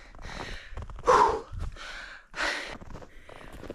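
Heavy, labored breathing from a hiker climbing at high altitude on a winter trail to a Colorado waterfall, with several loud gasping breaths and snorting exhales close to the mic, no talk.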